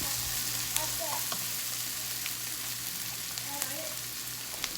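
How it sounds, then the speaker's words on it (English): Garlic and sauce sizzle steadily in a hot pan for spaghetti, a constant bright frying hiss with occasional soft scrapes and clicks of stirring close by. "you want to just make sure you keep stirring. You don't want anything to burn, especially that garlic."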